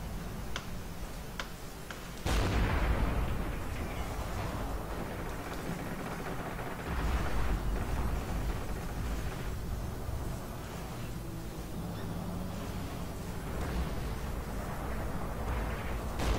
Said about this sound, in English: Whoops, artillery is zeroed in on this very spot.